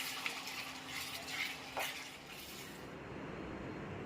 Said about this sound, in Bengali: এবারে শেষবারের মতন ভালো করে কষিয়ে নামিয়ে নেব।